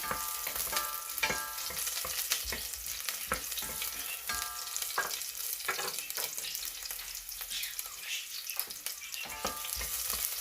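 Chopped onion sautéing in hot oil for a native chicken stew, a steady close sizzle and crackle with occasional spoon scrapes against the pan, no talking.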